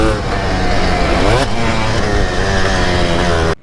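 A motocross bike engine revs loudly and close up, its pitch climbing and falling in strong harmonic sweeps, then cuts off abruptly near the end.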